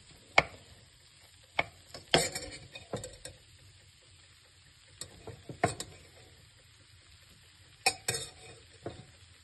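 Rice being stirred with vegetables and spices in a pan for bisibele bath, with quiet, scattered scraping and clinking strokes of a spoon against the pan over a faint background hiss.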